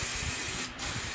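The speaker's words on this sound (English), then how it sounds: "I'm just going to hit it with a little bit of this shine spray" A short, steady hiss of a hair shine aerosol spray, close and continuous, with a brief pause near the end.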